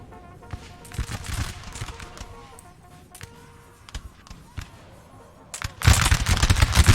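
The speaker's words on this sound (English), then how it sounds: "Glorious, glorious musket fire." Line infantry fire volleys of muskets in Napoleon: Total War, a ragged series of sharp cracks and pops that swells into a loud, dense burst of volley fire near the end.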